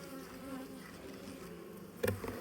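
Honey bees buzz steadily around an open hive during an inspection, a close, continuous insect drone with a brief louder burst near the end as bees fly near.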